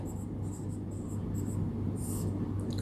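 Chalk or marker scratches on a board during a Sanskrit lesson in short, rhythmic strokes, faint and slightly distant over a steady low room hum, ending in a longer scribble.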